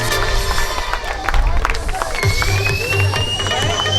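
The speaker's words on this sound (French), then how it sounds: "tonnerre d'applaudissements pour le podium des garçons" Applause and cheering rise from a crowd at an outdoor triathlon prize ceremony for the boys' podium, a busy clatter of clapping with music and an announcer's voice over it.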